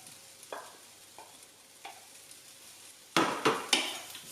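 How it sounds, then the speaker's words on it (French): Tomato pieces hitting a hot pan and frying with Mexican spices, a few soft sizzling bursts at first and then louder crackling splashes near the end, close by with no talk. "On va pouvoir mettre les 3/4 de la tomate dans la poêle."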